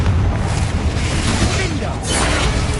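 Confringo blasting spell going off in the video game Hogwarts Legacy, a dense, loud burst of blast and crackle layered over continuous battle effects and music, with a voice calling out spells.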